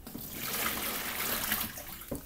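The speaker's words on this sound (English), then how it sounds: "Pour our hot water on it." Hot water poured into a container holding pepper and tomato seeds for paper-towel germination, a steady splashing pour running close and continuous throughout.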